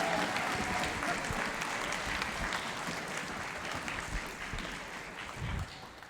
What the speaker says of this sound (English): let's have a round of applause for our class of 2023 band students